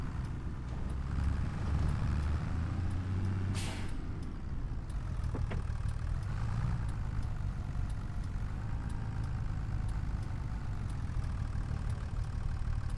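A front loader tractor engine in a farming game runs at a steady mid-pitched idle, a loud continuous rumble with a brief hiss of air and a few faint clanks over it.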